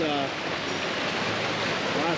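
A stream swollen after heavy rain rushes past nearby, a loud, continuous broadband roar of churning water with steady intensity, a voice speaking briefly over it.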